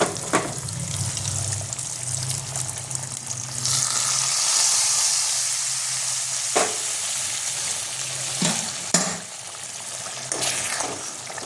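Hot oil tempered with curry leaves is poured into a mung dal bora curry, setting off a loud burst of hissing sizzle that fades back, framed by a few sharp metallic clinks nearby.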